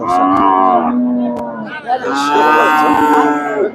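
Cows moo loudly and close by at a livestock market for milking cows and calves, with two long drawn-out calls, one after the other, and faint crowd murmur behind.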